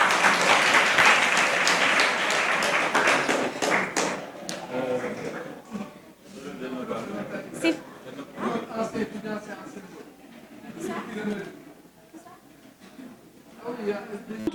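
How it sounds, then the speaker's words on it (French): Audience applause for a latecomer at a science week training seminar and competition, loud clapping for the first few seconds that fades into talking voices and scattered noise. "Merci de l'applaudir."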